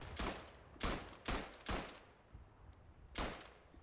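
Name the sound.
Chauchat machine gun firing in the video game Verdun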